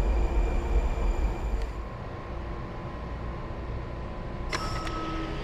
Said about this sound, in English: Train. Oh, it's an old one.